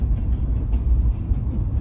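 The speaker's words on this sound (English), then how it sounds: "25 miles an hour, almost 30. I don't think it can go above 30, but it's going pretty fast." Loaded CSX freight hopper cars roll past at around 25 to 30 mph, a heavy, continuous low rumble with steady rattling close by and no talk over it.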